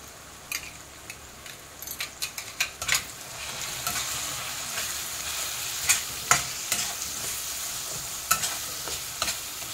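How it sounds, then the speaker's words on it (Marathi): Ground spices, black pepper, turmeric, cumin, Kashmiri chilli powder and salt are stirred and sautéed in a pan for dhaba-style egg keema: a continuous sizzle under repeated sharp clinks and scrapes of a spoon against metal. "चांगला एकजीव करायचा आहे, परतून घ्यायचं असं व्यवस्थित चांगलं"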